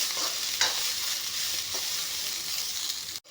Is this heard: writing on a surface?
no